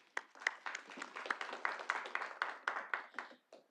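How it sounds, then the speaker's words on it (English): Applause from the audience at a Little Rock city board meeting, honoring the CEO of the Little Rock Water Reclamation Authority: a steady, moderately loud patter of many clapping hands across the room that stops abruptly near the end. "Let's give her a round of applause"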